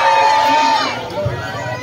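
A crowd at a barangay pageant cheers and shouts, a sustained roar of voices with a high whistle or shriek early on, loud and fairly close, then easing slightly.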